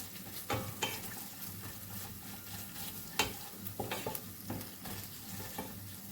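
Thick pepper paste sizzling and frying in a pan while being stirred, with scraping clicks of a utensil against the pan over a steady crackle.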